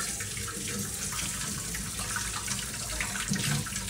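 Tap water runs steadily into a kitchen sink while meat for a Sunday mutton dish is washed, a continuous close splashing stream with no talk.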